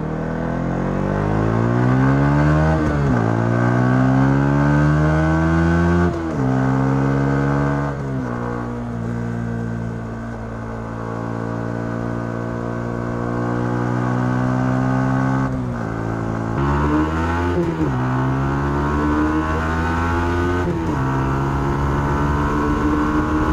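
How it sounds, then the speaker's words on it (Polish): A Yamaha XSR 125 motorcycle engine with a large exhaust revs up repeatedly, climbing in pitch through the gears and dropping back between pulls in several distinct, close, steady sweeps with no talk. "Motocykl bardzo przyjemnie się wkręca."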